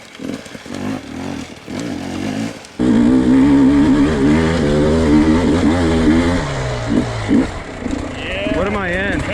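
Hard enduro motorcycle working up a third-gear hill climb at a pro race, the engine jumping to a loud, sustained rev near three seconds and holding with pitch swings, then easing into choppier throttle blips toward the end.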